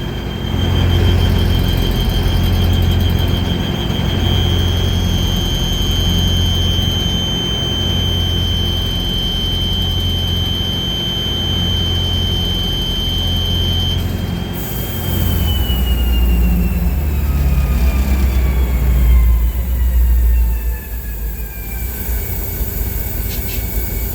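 A diesel locomotive's 26-L air brakes dump in an emergency application, a loud sustained roar and hiss with a high whine that shifts midway before settling into a rougher idle rumble.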